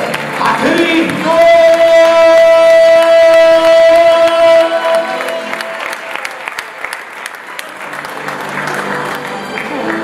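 Church congregation applauding during a sermon, loud sustained clapping with cheering, mixed with sustained tones that fade as the clapping thins out toward the end.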